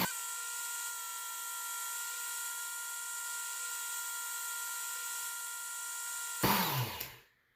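A Work Sharp belt sharpener with a 12,000 grit belt whirs steadily at close range as a knife edge is passed over it, then a brief rougher scrape before the motor winds down and stops.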